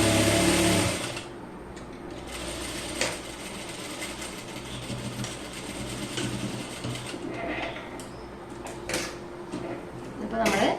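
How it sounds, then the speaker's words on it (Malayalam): Sewing machine stitching children's pants, a steady close mechanical whir running throughout, with a louder start and a few clunks near the end, under someone speaking. "ഇപ്പോൾ നമ്മൾ ഇതുപോലെ സ്റ്റിച്ച് ചെയ്ത് എടുത്തിട്ടുണ്ട്."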